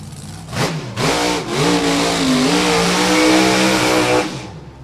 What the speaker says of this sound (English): Loud cars scare me.